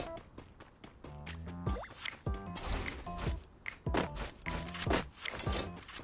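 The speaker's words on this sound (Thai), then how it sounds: "เฮ้ยมีเสียงสับปืน" Guns being cocked in the battle-royale game Free Fire, heard as a run of sharp mechanical clicks and thunks scattered through the clip, mixed with game effects and someone talking over them.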